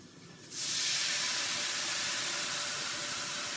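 A sudden loud, steady hiss of wine sizzling as it is poured into a hot pan starts abruptly and holds nearly constant, close up, with no voices.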